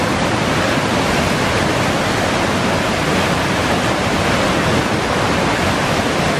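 A steady, broad roar of the swollen Ganges, its waves rushing continuously and evenly loud throughout, with no pauses and no voices.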